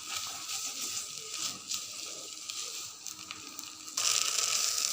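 A paste of green banana peel fries in a pan with a faint, even sizzle broken by light stirring scrapes, growing a bit louder toward the end.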